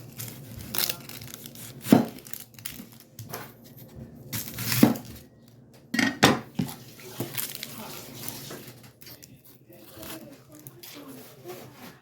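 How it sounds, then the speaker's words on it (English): A knife slicing onions on a board with intermittent soft crunching cuts and firmer thunks, spaced irregularly, close and moderately quiet under light background noise. "So that's how we slice our onions"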